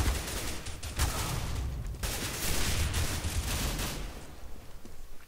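Rapid gunfire in Counter-Strike: Global Offensive cracks in dense, continuous volleys, loud and close, with brief dips between bursts.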